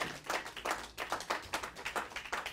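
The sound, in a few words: congregation clapping to acclaim Jesus in church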